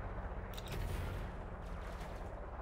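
Cannons on a Vulture ship fire in a space battle in Elite: Dangerous, a few sharp bursts over a constant low engine hum with no voices.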